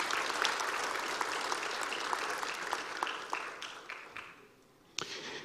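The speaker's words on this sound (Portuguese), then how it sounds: "em nome da minha esposa, Safira Gaspar, na qual eu peço uma salva de palmas a todas as mulheres presentes." A crowd applauds the women present at a ceremony in the Amazonas legislative assembly, with dense steady clapping that thins out, pauses briefly and then resumes with a few claps.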